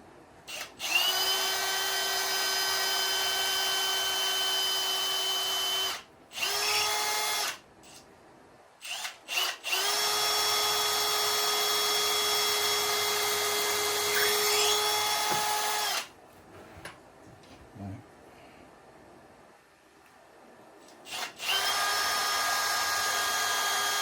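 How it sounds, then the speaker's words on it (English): A power drill whines loudly in several long bursts, stopping and restarting between holes, with short quiet gaps and faint handling noises in between. "then I'll drill the rest of my holes"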